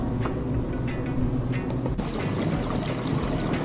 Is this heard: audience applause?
no